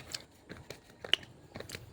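Crunchy bites and chewing of fresh guava, close and fairly quiet, with several sharp crisp crunches spaced irregularly through the moment and no talking.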